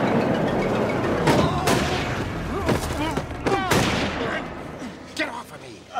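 Rifle gunshots ring out as a handful of sharp, booming cracks spaced unevenly over a few seconds, fairly loud with echoing tails, and people speak around the shots.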